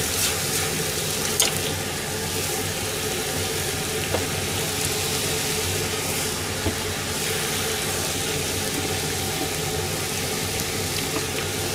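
Rice vermicelli stir-frying in a frying pan gives a loud, steady sizzle and hiss that carries on without a break, with faint clanks now and then.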